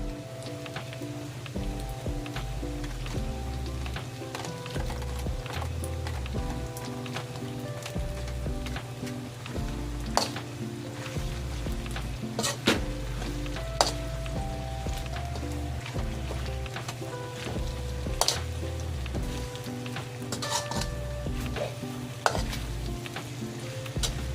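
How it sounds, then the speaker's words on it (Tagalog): Pork liver sizzles in melted butter for a pork menudo, a dense, continuous crackling fry under a low steady hum, with occasional sharp pops and spatula clicks, close and even, and no voices. "Lagay tayo ng butter. Tunaw lang siya dyan. Tapos ilagay ko na yung aking pork liver."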